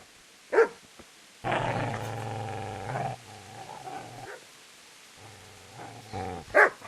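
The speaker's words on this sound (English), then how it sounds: "Get away, you mutt!" In Kingdom Come: Deliverance, a dog growls low and steadily in long rumbling stretches, with sharp barks near the start and at the end, close and fairly loud.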